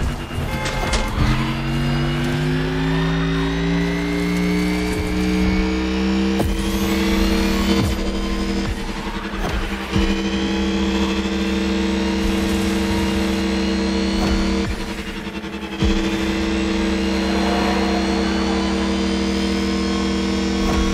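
Mercedes EQ Silver Arrow electric race car driving in The Crew Motorfest, a loud steady motor whine that climbs and falls in pitch with acceleration, with brief shifts and surges throughout.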